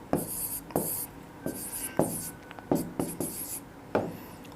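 Pen writing polynomial math examples by hand on paper, a close run of scratchy strokes in quick bursts with short pauses between them.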